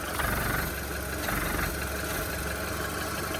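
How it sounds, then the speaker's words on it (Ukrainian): A 2005 Volkswagen Golf Plus 1.6 engine idles steadily up close, a smooth, even mechanical hum with no revving. "Мотор працює тихо, рівно, не димить, не труїть."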